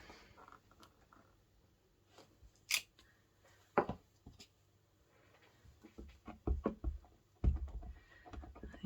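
Scissors snipping out a stamped paper image for a handmade card, a few sharp crisp cuts at a quiet crafting table with light paper rustling between them.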